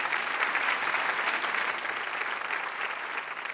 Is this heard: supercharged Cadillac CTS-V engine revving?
no